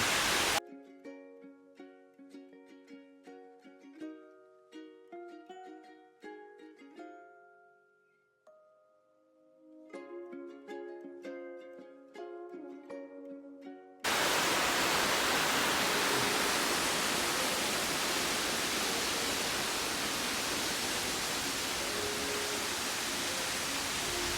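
A waterfall on a car trip from Wayanad to Kannur roars as a loud, steady broadband rush in the second half, following a stretch of music.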